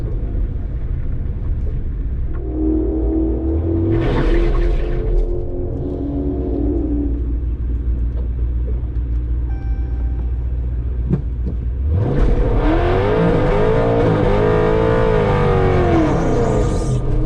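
Hemi-powered bracket drag cars at a Modern Street Hemi Shootout event, a loud engine rumble swelling around four seconds, then a second roaring launch and pull down the strip from about twelve seconds, steady loud throughout.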